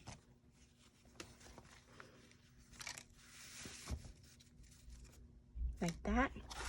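Paper or tape being ripped by hand in a few brief, crisp tearing bursts, close by, with quiet handling noise between.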